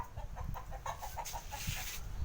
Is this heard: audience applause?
no